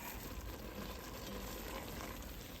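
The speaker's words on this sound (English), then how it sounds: "we're going to stir this all together and get that stirring" Jambalaya ingredients sizzle and get stirred in a pot with oregano, a soft, steady frying hiss with faint scraping, low and constant with no voices.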